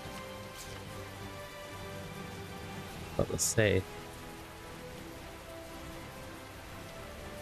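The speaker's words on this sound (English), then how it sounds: "Wonder why it's raining on this map, but not the other one." Steady rain falling in the video game Tales of Zestiria, a soft continuous patter under a brief spoken word and a short burst of game sound effects midway.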